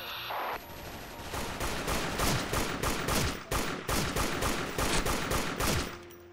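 Rapid bursts of automatic gunfire fill a first-person shooter match in Special Force, rattling loud and near almost without pause for several seconds after a brief quiet start.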